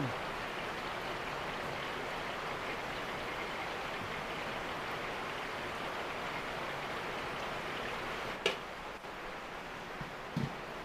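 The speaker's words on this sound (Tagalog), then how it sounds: "Lumakas ang buhos ng ulan, maingay sa bubong." Steady, dense heavy rain pouring on a roof with a constant hiss and drumming, broken only by a couple of brief knocks near the end.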